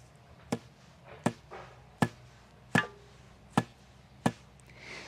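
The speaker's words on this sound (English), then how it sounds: "So I will take each bow, pull it a bit, hold it close to the microphone, and then you hear hopefully what I hear." A Turkish bow of about 38 lb draw weight is pulled close to the microphone: six sharp, dull knocks at an even pace, roughly one every 0.75 seconds, with near-silence between.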